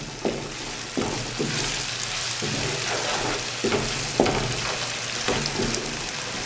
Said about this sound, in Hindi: अब मैं आंच थोड़ी तेज़ कर लूँगा और इसको मज़ीद 4 से 5 मिनट के लिए अच्छी तरह भून लूँगा